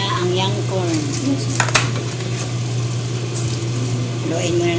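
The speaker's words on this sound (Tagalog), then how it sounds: "Haluin muna natin guys para mahalo siya ng mabuti." A spoon stirring vegetable soup with cabbage and young corn in a metal pot, soft clinks and scrapes with one sharper knock, under intermittent talking and a steady low hum.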